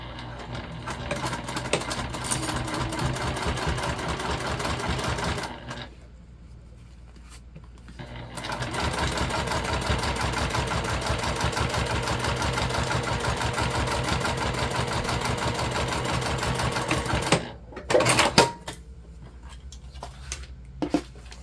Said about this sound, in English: I'm sewing with a 9014 Microtex